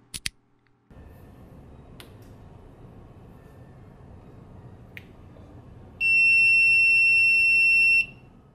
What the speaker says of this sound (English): the buzzer should sound